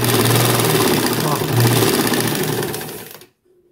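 A sewing machine powered by a washing machine motor stitches in a loud, fast, steady mechanical chatter with a brief surge, then stops abruptly into near silence.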